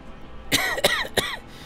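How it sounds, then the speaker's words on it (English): Three sharp coughs from a person with COVID in quick succession, close and fairly loud, with short pauses between them. "My cough is worse"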